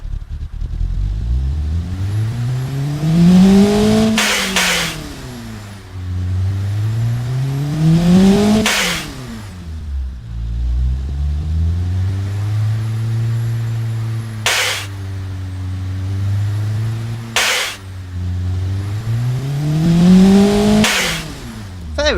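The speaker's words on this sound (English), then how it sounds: "I'll let you hear this crazy, crazy engine, as it is, at least in terms of size for a 4-cylinder" A full-aluminium 4-cylinder car engine in the Automation game revs repeatedly, pitch climbing and falling through several loud sweeps with sharp shift breaks, up close and with no talk.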